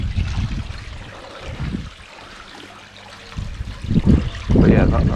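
A water spray runs beside a koi pond, giving a trickling, splashing wash that dips quietly in the middle and then grows louder and busier toward the end.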